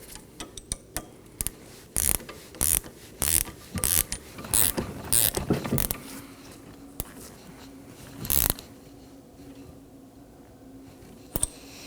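Ratchet wrench snugging down a 15mm nut on the rear shock of a 2015-2023 Nissan Maxima: a run of sharp clicking bursts, loud and close, then a pause and one more burst, with no talk.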